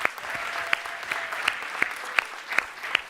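Applause from an audience at the Solve at MIT closing plenary, a steady wash of clapping with a few louder, distinct claps standing out nearby.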